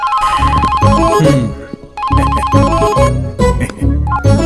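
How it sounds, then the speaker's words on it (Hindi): A mobile phone ringtone plays loudly in repeated bursts, a bright electronic melodic pattern with a beat, pausing briefly before starting again. "हेलो, फोन उठा। अरे इसे कोई साइलेंट मोड पे रख दो, रिंगटोन भी मुझे उसकी टोन में सुनाई दे रहा है।"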